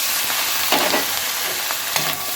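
Chopped onion and capsicum fry in a pan with turmeric and salt for a chili fish dish made with pomfret, giving a steady close sizzle with a couple of brief stirring scrapes.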